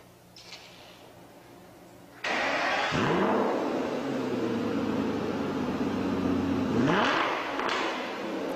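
An Aston Martin sports car engine from an iPhone app starts up and revs loudly, rising and falling through a couple of throttle sweeps before settling at a steady roar.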